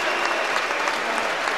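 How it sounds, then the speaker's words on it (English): An arena crowd at a boxing match roars and applauds for Willie Limond, a dense, loud, continuous wash of cheering and clapping. "And listen to that cheer, which is specifically now for Willie Limond."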